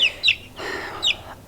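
Farm-hatched chickens, a flock that includes a Leghorn-sired bird, cluck in two short bursts with a softer fowl murmur between them, close and clear with no talk.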